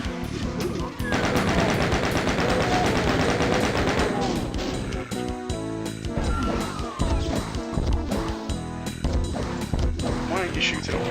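Rapid, loud bursts of gunfire from the video game DOOM (Knee Deep in the Dead), dense repeated shots dominating the first seconds and then firing in shorter volleys, with a person talking intermittently over them.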